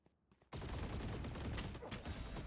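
Sustained automatic gunfire spray in the tactical shooter Valorant, a loud continuous burst of rapid shots that starts abruptly after a short quiet lead-in and carries on without pause.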